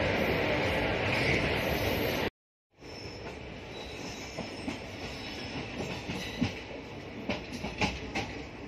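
A train runs at Begusarai railway station in India, a loud broadband roar of wheels on rail that cuts out abruptly, then returns with rattling, metallic clicks and occasional squeals.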